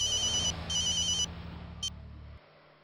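Telephone ringing during a call in an indoor sitcom scene, two loud bursts of electronic ringing, then a short chirp, over a low steady hum that cuts off near the end.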